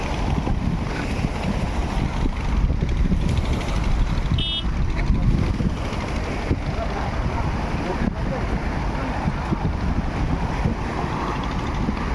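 A boat crosses open water carrying a motorbike, with steady wind rush buffeting the microphone and a broad wash of water noise throughout, while people talk faintly.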